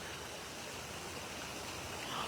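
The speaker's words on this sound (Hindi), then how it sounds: "पानी की आवाज आती है।" Steady flowing water from a nearby stream, a continuous soft broadband rush with no breaks, fairly quiet and alone.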